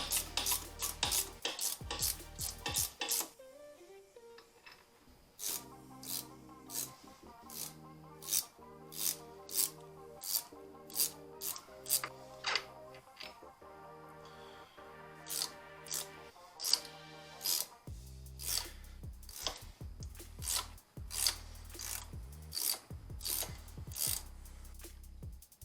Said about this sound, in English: use just a ratcheting box end. It's the easiest way to get in there and get them all.